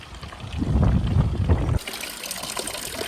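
Water trickles from a medieval stone fountain in a Spanish town street, a steady splashing flow that sounds louder at first and then thins to a fainter, brighter trickle.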